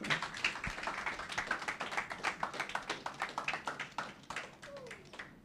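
An audience at a summer school closing ceremony in a public library claps for a student, a steady run of close, sharp hand claps over about five seconds with faint voices underneath.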